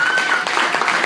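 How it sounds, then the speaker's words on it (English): A short burst of audience applause for speakers at a roast, dense and steady clapping filling the room, with voices mixed in. "give a round of applause for the people who did come up here and speak"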